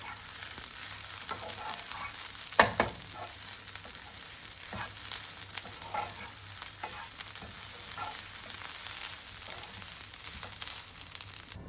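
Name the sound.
roasting and stirring dried coconut in pan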